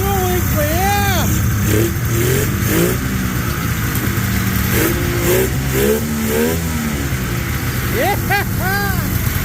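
A revived 1996 Polaris XLT snowmobile two-stroke engine revs and idles loudly nearby, its pitch swooping up and down repeatedly while a person talks excitedly over the engine.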